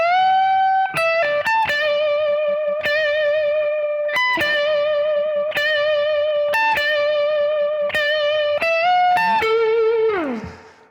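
Melodic slow blues guitar lick, sustained singing notes with bends and vibrato over a light backing, played clearly and alone before a final slide down and fade.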